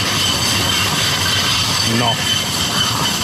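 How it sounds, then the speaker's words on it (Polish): Kraków tram crossing an elevated viaduct at Płaszów, a steady rolling rumble with a brief wheel squeal near the middle, while someone speaks briefly over it. "Poczekajmy, aż przejedzie tramwaj"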